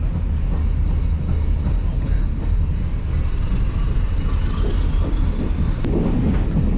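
Train ride between Durres and Tirana, Albania, aboard an old locomotive-hauled train: a steady loud rumble of wheels and carriage runs throughout, with faint rhythmic clatter and occasional knocks, no one speaking.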